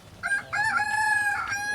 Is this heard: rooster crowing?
yes